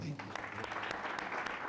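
Audience at a Bible and business masterclass panel clapping for a speaker named Brian, a brief, fairly quiet scatter of claps with a voice talking under them.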